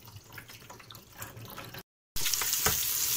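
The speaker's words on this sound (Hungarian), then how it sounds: "addig leöntjük erről a hideg vizet" Cold water is poured off in a kitchen while cooking beef bourguignon, a continuous splashing flow like a running tap, softer at first, then a short gap and a louder, brighter rush.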